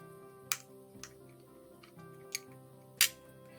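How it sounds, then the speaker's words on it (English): Flat screw being unscrewed from a Beyblade Burst Sparking launcher: a few sharp, brief clicks and ticks at irregular intervals, close and fairly quiet over a low steady hum. "Now we're going to take this flat screw out of here"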